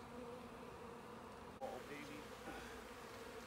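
Soft, continuous hum of tens of thousands of honeybees inside an open beehive box, a faint steady drone with a brief knock partway through and no clear speech.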